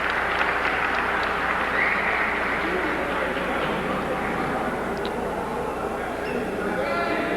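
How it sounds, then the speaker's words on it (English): Fans at a 1987 Norristown High School boys basketball game against Pennridge applaud steadily in a gym, a dense sustained clapping with crowd babble and some cheering throughout. "He gets a nice round of applause from the fans here at Norristown High School."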